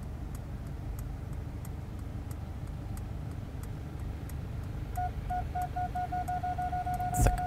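A Mercedes-Benz parks itself in a tight space using the park assistant: a steady regular ticking over a low idling hum, then repeated parking-sensor beeps grow quicker before a final clunk.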